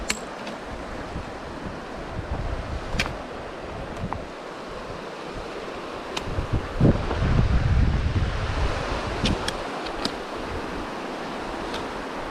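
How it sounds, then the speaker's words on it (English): Elwha River flowing after a descent from Hurricane Ridge, a steady broadband rush of moving water with wind buffeting the microphone, continuous and fairly loud throughout, with no voices. "Now down here at the Elwha River."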